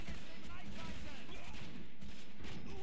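Gunfire in the war game Men of War Assault Squad 2 comes as a dense, loud fusillade of rapid shots and rumbling battle noise, heard under a player's talk.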